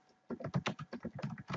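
Rapid keystrokes on a computer keyboard while entering data into an Excel 2016 spreadsheet, about a dozen close, quiet clicks in a quick, slightly uneven rhythm.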